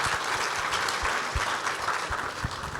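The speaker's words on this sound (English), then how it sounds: "Please put your hands together and give our stars a big round of applause" Steady applause from a crowd at an awards ceremony honouring high-achieving students and graduates, dense clapping sustained throughout with a few sharper claps standing out.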